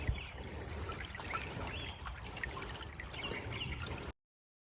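Rainwater streams down a hiking trail like its own small creek, a steady close trickle and gurgle of running water with no one talking.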